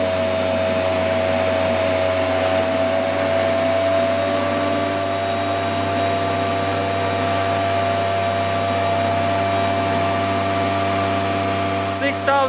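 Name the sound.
aircraft DC starter-generator spinning up to higher speed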